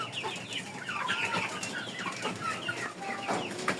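Several chickens cluck and chirp softly at close range, with scattered calls overlapping in a busy, continuous murmur.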